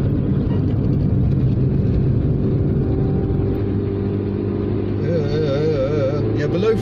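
A Proton Saga Aeroback engine labours at low revs below 3,000 rpm, a loud steady drone heard from inside the car, with a voice talking over the rising engine note near the end.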